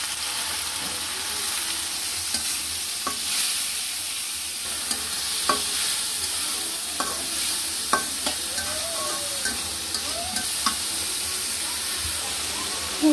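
Lentils are stirred into fried onions in a hot wok: a continuous sizzle runs under repeated scraping and knocking strokes of a spoon, close and fairly loud.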